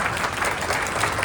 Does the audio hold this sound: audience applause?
yes